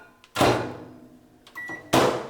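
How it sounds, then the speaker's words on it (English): A microwave oven close by: a door and button clatter, loud broadband bursts of handling, and a thin steady beep-like tone before another burst, with no talk. "I'm gonna microwave it for 30 seconds."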